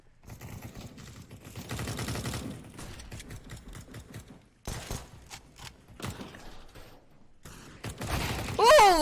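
Counter-Strike match gunfire comes in separated bursts of rapid clattering shots with quiet gaps between them, ending in a louder volley, while a commentator talks over parts of it.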